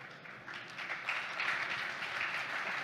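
An audience applauds after a talk, a steady wash of clapping from a crowd that swells slightly and holds, heard from a distance without voices.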